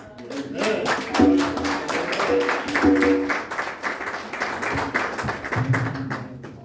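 A church congregation claps together at a worship service, a quick run of sharp hand claps over voices in the room.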